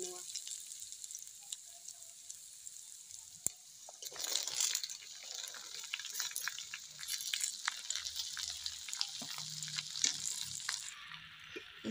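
Ridge gourd (nenua) stirred with onions in a pan gives a faint, steady sizzle with soft scraping and crinkling as a spoon turns the pieces, quiet and close throughout.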